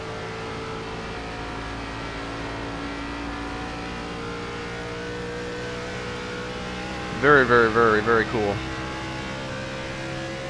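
A NASCAR Gen 4 race car engine in the iRacing game at Auto Club holds a steady, droning tone, with a voice briefly speaking over it near the end.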